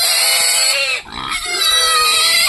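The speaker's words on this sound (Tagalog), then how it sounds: "Malaki na din yung baboy ni Caleb." A pig at a market squeals and grunts loudly and close by in one continuous, strained cry lasting a couple of seconds, with a brief dip in the middle.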